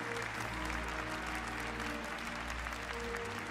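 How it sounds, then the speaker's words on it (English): A large crowd applauds steadily at the Gran Turismo World Series Nations Cup podium ceremony, a dense, continuous clapping with a low hum beneath it. "Paul Ura being congratulated by the crowd."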